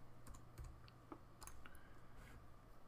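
Someone types briefly on a computer keyboard, a handful of quick, light key clicks in an uneven burst, close and quiet, with no talk.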